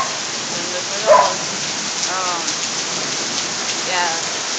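Heavy rain pours down steadily during a Florida thunderstorm, a dense continuous hiss close by with one brief louder knock and faint voice-like murmurs underneath.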